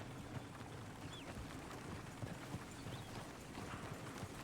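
Horse hooves clip-clop at a steady rhythm in Red Dead Redemption 2, moderately loud over a noisy game ambience and heard alone without talk.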